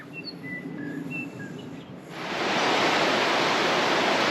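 Soft rushing water with faint bird chirps at first, then a louder, steady wash of the Beansburn River flowing under a bridge takes over for the rest.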